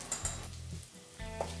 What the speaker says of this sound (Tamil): எல்லாத்தையும் சேர்த்துட்டு இதை வந்து நம்ம நல்லா வதக்கணும்.